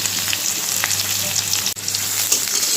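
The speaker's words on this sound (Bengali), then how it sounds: "পেঁয়াজটা আমি হালকা করে ভেজে নেব, এটা ভাজা করতে থাক।" Onion and green chilli frying in oil in a kadai, a close, continuous crackling sizzle with light stirring scrapes and one brief dip partway through.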